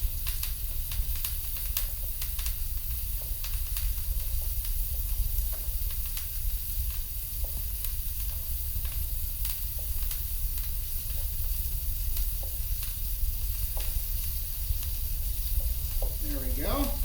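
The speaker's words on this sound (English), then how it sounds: "You hear that popping, it's a beautiful noise." Rosemary and thyme pop and sizzle in a hot pan, a steady close hiss of frying dotted with frequent small crackles and pops throughout, without talk over it.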